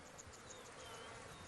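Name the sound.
flies and insects buzzing around a buffalo carcass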